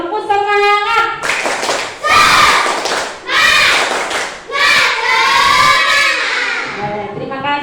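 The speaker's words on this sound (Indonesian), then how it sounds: "Silakan tepuk semangat." A classroom of schoolchildren doing a spirited rhythmic group clap led by their teacher, loud bursts of clapping mixed with children's shouted chanting in a close, lively room.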